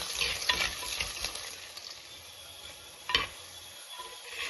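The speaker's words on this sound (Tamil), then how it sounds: "அந்த பூண்டையும் சேர்த்து வறுத்துக்கிறோம்" Garlic sizzles in a hot pan with a steady close crackle and scattered clicks from stirring, and one sharper knock partway through.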